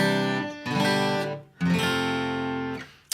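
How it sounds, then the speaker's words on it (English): Guitar strumming an F bar chord across all six strings, two or three ringing strums that decay, close and fairly quiet with no talk. "Now you could play an F bar chord there"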